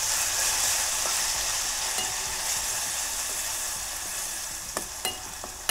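Amla and flaxseed sizzling in hot hair oil over a low flame, a steady loud frying hiss with a few sharp spoon scrapes against the pan near the end.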